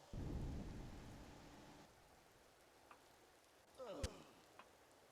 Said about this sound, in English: We're getting splashed by the rain.